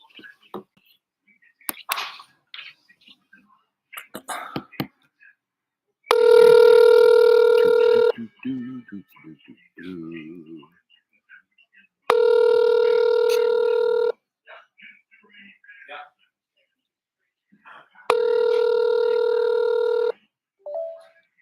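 A telephone call is placed: rapid dialing clicks and tones, then three long loud ringback tones separated by pauses filled with faint rustling and murmured talk.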